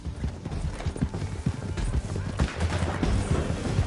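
Horse hooves clip-clop at a fast gallop in Red Dead Redemption 2, a busy, continuous rhythm close by, mixed with game noise and what may be distant gunfire.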